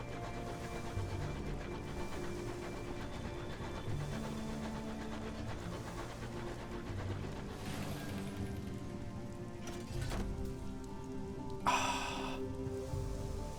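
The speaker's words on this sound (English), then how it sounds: "Seems it's raining in space." Rain falls steadily in the video game Sunless Skies, a soft continuous patter with a brief brighter splash near the end.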